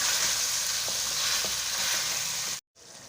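Pieces of mutton and taro (arbi) sizzle loudly in a pot while being stirred, a dense close frying hiss with soft scraping touches that cuts out abruptly near the end; no talking.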